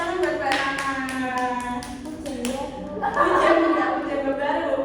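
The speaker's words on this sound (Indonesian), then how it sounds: "tepuk tangan buat Mbak Nana." A class claps hands briefly, the rapid claps mixed with voices and chatter in a classroom.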